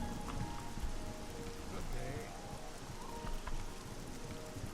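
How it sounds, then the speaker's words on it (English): Steady rain falls in the fantasy game Oblivion, a continuous hiss of raindrops on the ground, moderately loud and unbroken, with faint background game tones beneath. "Instead of out here in the rain."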